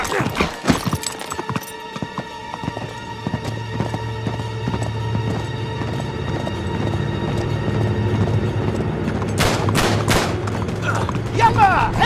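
In the Uncharted 3 video game, a horse gallops with steady rhythmic hoofbeats while bursts of gunfire crack around it, with sharp shots clustering near the end.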